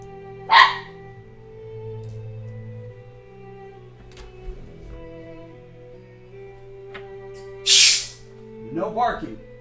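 A dog gives a couple of sharp barks, one early and one later, loud and close, against a low steady electronic hum. A voice speaks briefly near the end.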